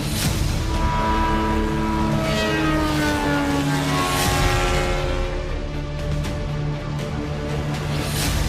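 A military propeller drone engine drones steadily and loudly overhead, with a constant buzzing hum and slowly shifting pitch as it flies, and no voices.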